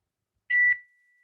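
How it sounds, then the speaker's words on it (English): A kitchen timer gives a single short, loud electronic beep, close by, with a brief ringing tail, in an otherwise quiet room. "I'm gonna shut off the timer"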